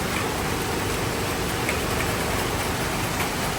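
Steady heavy rain falling after a cyclone, a dense, even wash of drops with no pauses and no voices.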